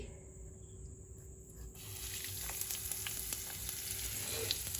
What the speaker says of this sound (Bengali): তেলে একটু হিং দিয়ে দেবো তেলেই